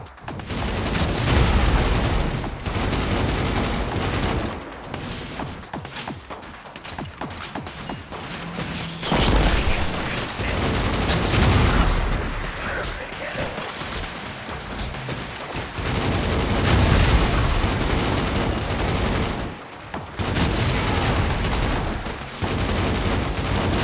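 Arc energy bolts and gunfire from a shield in the Destiny Rising video game, a dense continuous barrage of crashing blasts, shots and impacts, loud and sustained with no speech.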